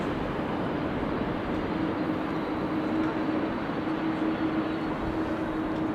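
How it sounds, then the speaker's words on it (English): A KLM airliner arriving from Las Vegas roars in at Amsterdam Schiphol Airport on a windy, showery day, a loud, steady broadband engine rumble with a sustained low whine running through it. "KLM flight 636 arrived from Las Vegas is next to arrive."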